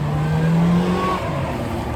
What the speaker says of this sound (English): Excuse the car noise here.